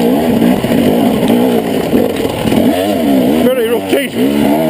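A dirt bike on a Hamsterley trail lap in second gear, its engine loud and close with a buzzy rev that rises and falls repeatedly, plus a brief harsher burst near the end.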